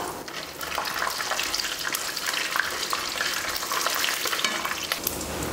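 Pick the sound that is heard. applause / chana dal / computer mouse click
chana dal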